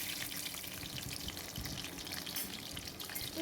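Black cumin seeds and green chillies sizzling in hot oil, a steady close crackling hiss with fine popping spatters, continuous and fairly quiet with no talking.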